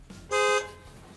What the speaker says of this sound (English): Add horn sound effect.